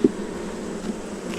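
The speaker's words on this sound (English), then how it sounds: "Don't want to hurt the bees." Honeybees buzz steadily at close range during a hive inspection, a constant droning hum with a brief louder burst at the start and no talking.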